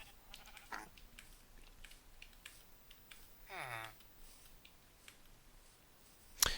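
In a Minecraft survival game, a single sheep bleats once at mid-distance, a wavering cry among faint clicks and light game sounds, with no talking during it.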